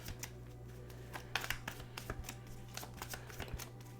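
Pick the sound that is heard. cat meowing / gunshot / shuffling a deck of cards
shuffling a deck of cards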